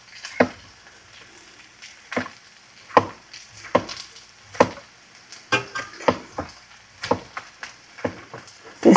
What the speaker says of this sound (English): let's cut us up some pepper